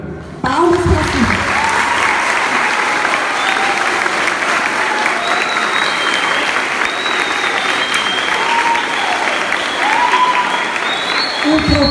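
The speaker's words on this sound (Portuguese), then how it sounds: "Palmas para ti." A crowd applauds steadily for several seconds, with scattered whoops and voices rising over the clapping.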